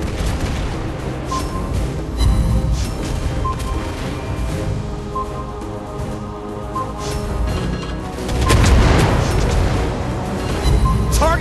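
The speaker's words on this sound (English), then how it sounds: "Torpedoes!" Repeated deep booms and crackling blasts from torpedo hits in the mobile naval game World of Warships Blitz, with a tier 6 Monaghan destroyer in battle, loud and dense throughout and swelling into a heavier burst near the end.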